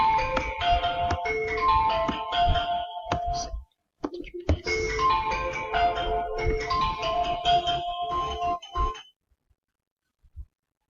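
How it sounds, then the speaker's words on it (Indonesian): Phone ringtone chiming in a repeated melodic pattern, loud and alone, interrupting a C++ programming lesson before stopping abruptly. "tadi ada telepon"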